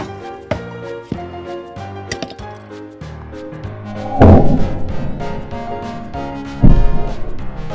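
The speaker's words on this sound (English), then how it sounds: "Board smashing!" A push-along Thomas toy train is smashed with a board, with several sharp thuds and cracks and two heavy crashing impacts over a musical backing, loud and close.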